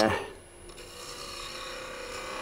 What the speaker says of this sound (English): one of the things I do is at this stage is when I would sand